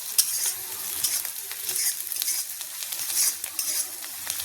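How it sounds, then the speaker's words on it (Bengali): Chopped onion frying in a pan for masoor dal bharta, a quiet hissing sizzle with occasional stirring scrapes, steady and close with no talking. "পেঁয়াজটা তো বেশি ভাজবো না"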